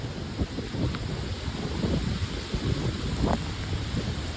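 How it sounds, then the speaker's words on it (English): A severe thunderstorm with heavy rain pours down in a steady, dense roar, with low rumbles of thunder rolling beneath it and wind buffeting the microphone; no one speaks. "I'm getting drenched in rain."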